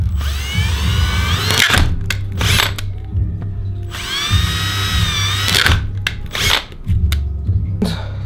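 A power drill bores into Arcade 1up plexiglass with two long whining runs and shorter bursts between them, loud and close, with rough grinding as the bit bites into the plastic.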